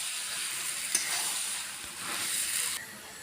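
Village-style kalo kochu (black taro) pieces fry in a pan as the water cooks off, giving a steady, close hissing sizzle with a faint crackle throughout and no voices.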